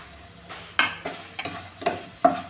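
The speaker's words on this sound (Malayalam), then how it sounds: "ഈ വെണ്ടയ്ക്ക ഒന്ന് ഫ്രൈ ചെയ്തെടുക്കാമേ" Okra fried in coconut oil in a pan gives a soft steady sizzle, broken by a few sharp stirring scrapes and spits spaced about half a second apart, close and fairly quiet.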